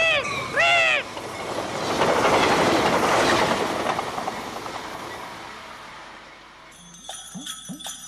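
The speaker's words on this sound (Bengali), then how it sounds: "ইস, ট্রেন আইতাছে," A cartoon train rumbles past with a loud, building clatter of wheels on rails that swells mid-clip and then fades, with a few cartoon voice sounds at the start and end.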